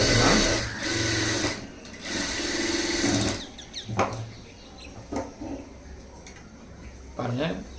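Sewing machine stitching a folded blouse sleeve, with a loud whirring run at the start, then shorter bursts and pauses, near and prominent, with a voice talking in between.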